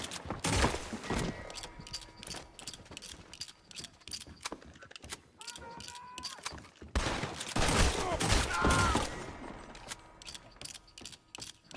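Frontier outlaw gunfight in the southwestern territory of Red Dead Redemption 2, with bursts of rapid gunshots cracking in clusters amid mechanical clicks of reloading, loudest near the end.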